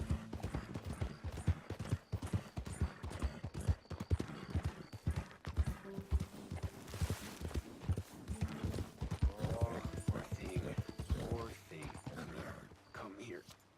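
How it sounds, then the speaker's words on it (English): Horse hooves clip-clop in a steady rhythm while riding in Red Dead Redemption 2, with a voice talking over the hoofbeats and an occasional whinny. "Good majority of the game is just riding around on a horse"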